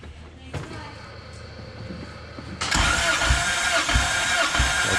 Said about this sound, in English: All right, Brent, crank it real quick